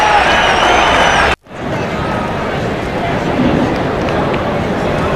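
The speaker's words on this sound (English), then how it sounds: "The crowd love it here at the Oval" Crowd noise at the Oval after a Richmond goal in an AFL match against Essendon, a broad steady roar of cheering that cuts out briefly, then resumes at a slightly lower, sustained level.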